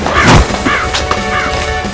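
A crow caws harshly in a video game, loud and close: one sharp squawking burst near the start, then a few shorter raspy calls and knocks, with no speech over it.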